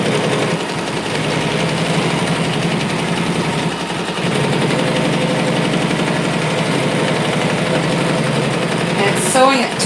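A sewing machine runs steadily while stitching lace for a Halloween lantern, a continuous mechanical whir with fine rapid needle rhythm, close and fairly loud throughout.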